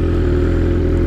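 A freshly broken-in motorcycle with an Acro GP Shorty exhaust tip idles close by, giving a loud, choppy low burble for a brief moment.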